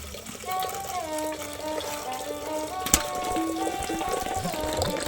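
Water is drawn for a household deity, running steadily into a vessel with a continuous splashing trickle and one sharp knock partway through.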